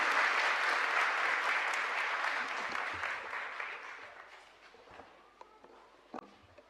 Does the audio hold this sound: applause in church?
yes